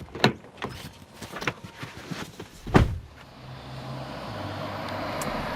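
A 2025 Kia Carnival Hybrid people mover with doors shutting in a few sharp thuds, one heavy slam, then a smooth, rising hum as the vehicle pulls away.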